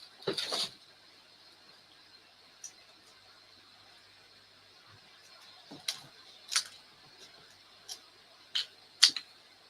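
Sparse, sharp snips of scissors cutting, a handful of quick clicks spread out over near silence.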